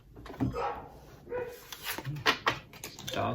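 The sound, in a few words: dogs barking in a hallway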